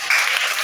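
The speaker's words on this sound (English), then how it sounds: "Clap for her." A short burst of steady group applause, many hands clapping at once, fairly close and even throughout.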